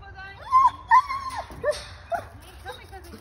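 A German Shepherd whimpers and yips in high, wavering tones with a short bark-like burst, close by and fairly loud, over light background noise.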